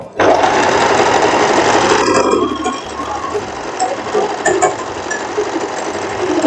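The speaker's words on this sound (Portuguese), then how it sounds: "Eu gosto de costurar o meu elástico no zigue-zague, que eu acho que ele prende mais." A sewing machine zigzag-stitches elastic onto a short lace dress, running in a loud, fast, steady whir up close. Its pitch and speed shift slightly partway through, and no one talks.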